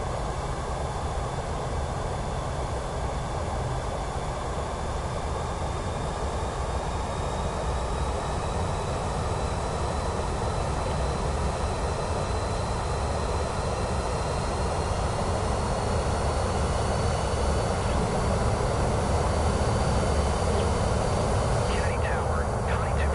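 A steady, droning aircraft engine in Microsoft Flight Simulator 2024, the Connie airliner, a constant low rumble and whine that holds unchanged throughout, loud and close.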